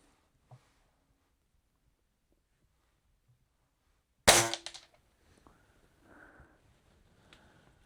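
A single sharp crack from a .22 caliber air gun firing a Crossman Magnum pellet into strawboard, loud and close, followed by a short fading rattle and then quiet handling noises.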